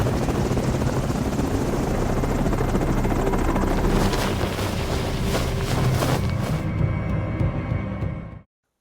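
A helicopter flies in a film scene, its loud steady rotor roar and engine drone filling the clip continuously before cutting off abruptly at the end.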